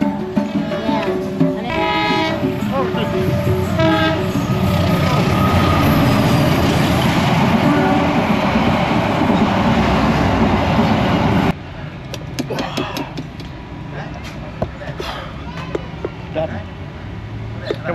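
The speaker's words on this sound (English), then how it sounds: "Oh, is there a train coming?" A loud train rumbles past close by in Malang, Indonesia, a steady roar of wheels on rails with some squealing, then cuts away to quieter street noise and voices.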